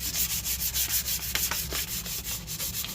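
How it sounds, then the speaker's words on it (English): Abrasive scuffing on a rusty Jeep YJ rear body panel makes rhythmic back-and-forth rasping strokes, around a dozen in quick succession, close and fairly quiet, with no voices. "we're just going to scuff it up a little bit"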